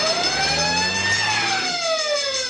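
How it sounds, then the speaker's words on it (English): A fire engine siren wails loudly and continuously, its pitch sweeping up and then sliding down, with engine rumble beneath. "Then the fire engine starts up. The siren blows."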